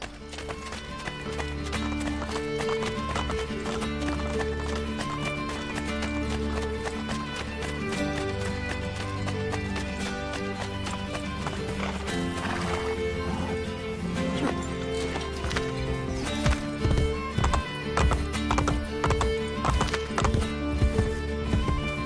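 Rapid clip-clop of hooves galloping in the video game Assassin's Creed Brotherhood over a dense layer of music and game effects, with an occasional horse whinny rising briefly from the mix.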